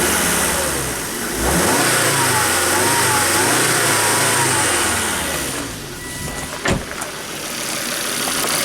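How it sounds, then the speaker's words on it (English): A Volvo car engine revs up from idle, holding a steady mid-pitched roar before dropping back, close by and loud, with a brief clunk near the end; a voice is faintly present underneath. "let's rev it up"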